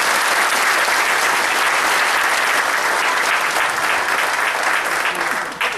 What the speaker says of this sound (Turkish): Aslında bu alkışı ona yapmak gerekir diyoruz